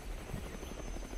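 Helicopter flying off in Roblox Mad City: a steady rotor thrum with fast low chopping pulses, moderately loud and continuous with no talk.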